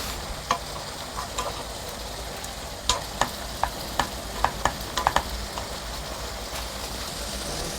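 An eggplant and tofu braise simmering uncovered in a pan over medium heat, reducing its broth with a steady low bubbling hiss and scattered sharp pops and clicks, mostly in a cluster near the middle.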